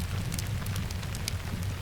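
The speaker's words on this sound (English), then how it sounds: "The rain begins to fall steadily. A soft drumming on leaves and needles all around." Steady rain falls on leaves and pine needles in a forest, a soft continuous patter with scattered sharper drops, heard alone without voices.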